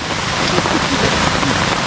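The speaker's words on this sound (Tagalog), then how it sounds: "Ulan lang." Steady heavy rain pours during a flood at a damaged fish corral in the Philippines, a dense continuous hiss close by with faint voices underneath.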